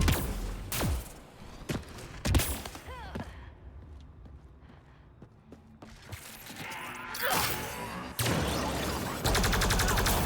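Turret firing in the Mass Effect Andromeda video game, a few sharp gunfire bursts at the start and again near the end, mixed with mechanical game sounds at moderate level.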